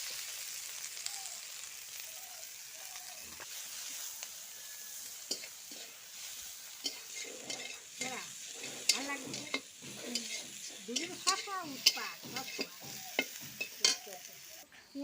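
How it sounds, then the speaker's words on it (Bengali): Onions frying in hot oil for a Bengali fish curry (macher tel jhal) give a soft steady sizzle, broken by scraping, stirring clatter from a spoon in the pan, fairly faint with no talk. "মাছের তেল ঝালের জন্য তেলের ওপর পেঁয়াজ দিয়ে দিচ্ছি"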